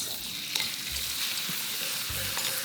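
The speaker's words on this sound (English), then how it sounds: "Now go in with your prawns." Prawns sizzling as they hit hot oil in a wok for garlic shrimp pad see ew, a steady loud frying hiss with a few faint clinks, close up and without speech.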